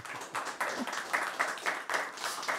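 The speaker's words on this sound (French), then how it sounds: "On l'applaudit bien fort" A TV studio audience gives applause for a guest, fairly faint clapping in loose bursts, brief and slightly uneven.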